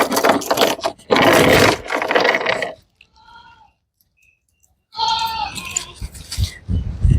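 Goats being led into a shed during hot weather, bursts of close shuffling and scraping around a few short bleats, with a brief quiet pause in the middle.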